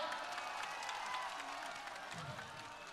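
Faint, steady applause from a crowd at a political rally for actor Mithun Chakraborty, a continuous distant patter of many hands with no clear pauses.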